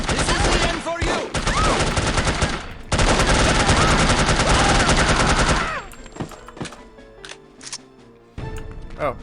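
Rapid gunfire from dum-dum rounds in the No One Lives Forever video game, two long loud sustained bursts of automatic fire, then scattered single shots and clatter fading out before another burst starts.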